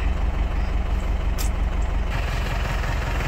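A truck engine idles close by in a steady, low, throbbing rumble while ampalaya from a storm-damaged harvest is loaded, with a brief hiss partway through.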